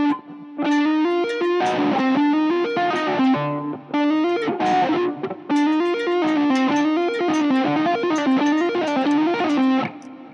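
Fast electric guitar solo passage, played with distortion and effects: rapid runs of notes flow continuously and loudly with only brief gaps, no voice over them.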